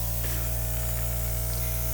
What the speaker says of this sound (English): we're going to airbrush those edges out